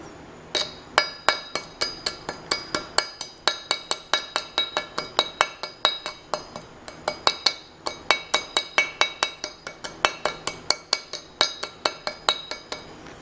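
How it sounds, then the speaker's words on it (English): A chip hammer strikes slag off a stick weld on a scrap metal project, dozens of quick, sharp metallic clinks in a fast, steady rhythm, close and alone with no talk. "I'm going to show you what happens when we take the hammer to the weld,"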